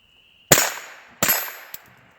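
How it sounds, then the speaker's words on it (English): A rifle fitted with a CMMG .22 bolt conversion fires two sharp, loud shots about 0.7 seconds apart, each ringing out briefly, followed by a faint metallic click. "Let me fire a couple of shots."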